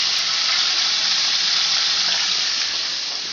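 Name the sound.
chicken frying and sizzling in a pan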